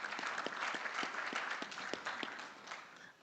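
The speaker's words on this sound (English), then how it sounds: "Once again, I'd like you to welcome him with a warm hand of applause." Audience at a construction law conference applauding a speaker, a steady wash of many hands clapping that fades gradually toward the end, with no voices.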